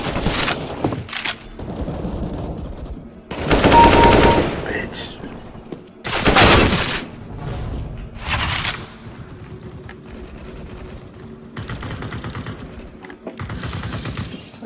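Counter-Strike: Global Offensive gunfire comes in loud bursts of automatic shots and single cracks, clustered in several rapid volleys with quieter gaps between, and a voice speaks briefly among the shots.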